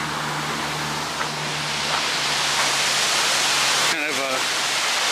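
Water rushing at Arizona Falls in Phoenix forms a steady, loud broadband roar that fills the whole stretch, with a brief voice breaking in near the end.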